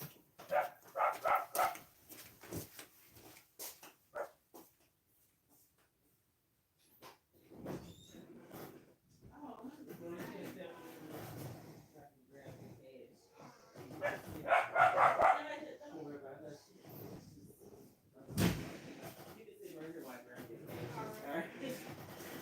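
A dog barks in a few short bursts among loud blowing and snorting breaths, while people talk across much of the scene.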